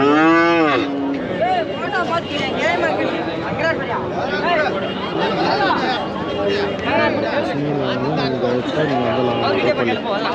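Cows mooing at a cattle market, several loud drawn-out lowing calls rising and falling one after another close by, over a constant murmur of crowd chatter and people talking.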